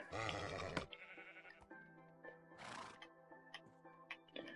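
A Minecraft horse neighs loudly in a whinnying burst, then a second shorter whinny follows amid soft game ambience with faint clicks, no talking.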